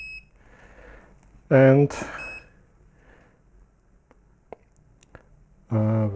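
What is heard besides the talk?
portable oscilloscope menu beeper beeping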